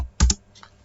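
Two quick, crisp keystrokes on a computer keyboard, pressed close together as a Windows+R shortcut, followed by a faint softer tap in a quiet room.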